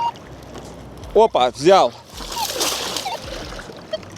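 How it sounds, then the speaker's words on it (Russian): Waves from passing barges slosh against a riverbank in a brief, rough wash of water that follows a few short spoken words. "волна опять на меня идет от этих барж"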